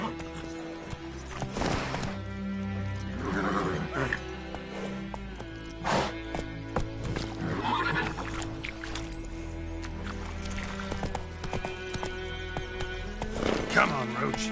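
Roach, the horse in The Witcher 3, gallops with repeated hoof clops and gives a few whinnies, with a rider's voice heard over the hoofbeats.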